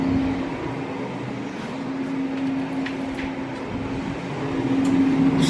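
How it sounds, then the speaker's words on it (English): An air fryer hums with a steady motor and fan whir, a constant, fairly loud drone with a faint tonal whine running throughout and no voices. "do the air fryer."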